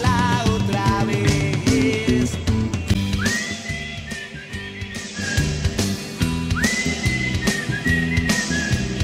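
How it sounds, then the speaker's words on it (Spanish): A crowd at an outdoor rock and roll sound-system concert whistles along in long, rising shrill tones over loud live music, the whistles recurring several times through the mix. "Vámonos con ese chiflido, todos."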